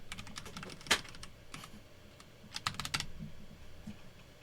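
Computer keyboard typing during a web app coding session, a few quick bursts of sharp key clicks with pauses between them, close and fairly quiet.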